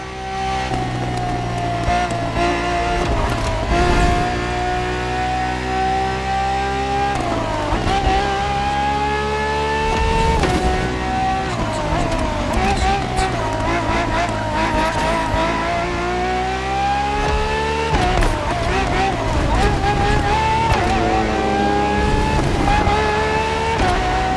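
A Ferrari FXXK engine in the video game The Crew Motorfest, loud and close, climbing through high revs with repeated gear shifts and brief tire squeal, sustained throughout with no talking.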